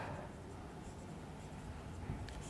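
A pen scratches across paper while geometry notes are written down, giving a continuous soft, close scraping with small strokes and no talking.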